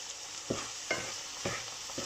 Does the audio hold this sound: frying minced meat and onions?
yes